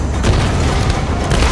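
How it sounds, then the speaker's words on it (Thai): Grenade blast in the game Tomb Raider, a loud, dense, rumbling boom filling the short moment without pause. "ใครเขาโยนระเบิดวะ"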